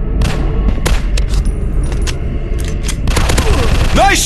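Gunshots in the mobile shooter Zombies Fire Strike, set in an industrial war zone: loud bursts and single cracks over a constant game soundscape, with a game voice calling out and a rising whoosh near the end.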